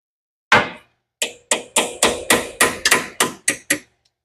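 About ten sharp hammer blows while working on a big-block Fox-body car, one then a quick steady series, each ringing briefly before the next, close and loud with no talking.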